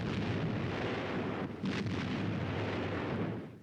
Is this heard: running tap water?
no